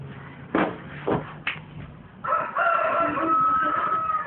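Chickens at a rural camp cluck in a few short bursts, then a rooster crows loudly nearby with a long, ringing cock-a-doodle-doo that carries to the end.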